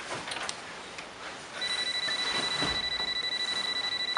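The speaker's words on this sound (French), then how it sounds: "t'as déclenché l'alarme" An alarm rings with a steady, rapidly pulsing electronic tone that starts partway through and continues evenly to the end, moderately loud over a faint background hiss.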